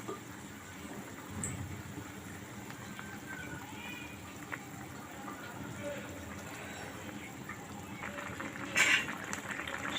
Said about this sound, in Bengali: ঝোল ফুটে উঠেছে, এখন মাছগুলো দিয়ে দেব।